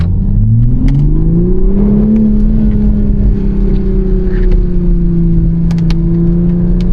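A car engine revs up steadily on a rainy night in downtown Buffalo, its pitch climbing over the first couple of seconds and then holding a loud, sustained drone with no talking.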